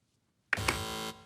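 A game show buzzer on a British TV quiz, one sudden loud electronic tone that holds steady for about half a second and then cuts off sharply after silence.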